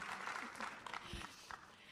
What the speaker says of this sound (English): You're getting a round of applause in the room.